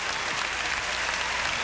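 Tennis crowd at the 1992 Amelia Island match between Sabatini and Graf applauding a point, a steady, fairly distant wash of clapping.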